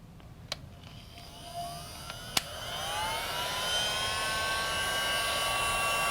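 A heat gun blows hot air with a steady rushing whoosh and a rising whine, starting faint after a couple of sharp clicks and settling into a loud, continuous blast.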